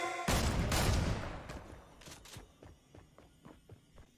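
Fortnite gunfire: a loud burst of rapid shots at the start, followed by scattered fainter impacts and footstep-like taps fading out.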